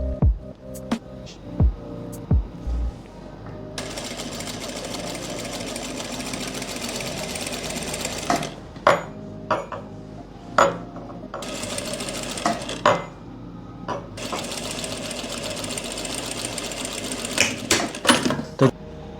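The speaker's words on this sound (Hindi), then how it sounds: "इसके बिल्कुल किनारी पे आपने सिलाई लगा देनी है ऐसे।" Sewing machine stitching along the very edge of a half-inch folded hem on palazzo pants pockets, running in steady bursts with brief pauses and a few sharp clicks between runs, close and fairly loud with no talk.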